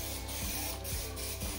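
A spray can of rust-proofing primer hisses steadily at close range during tractor repair, a continuous loud spray with faint periodic clicks underneath and no talk.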